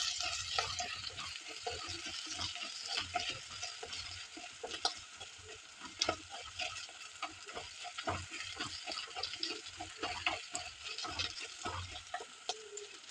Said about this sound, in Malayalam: എന്നിട്ട് നല്ലതുപോലെ ഇളക്കുക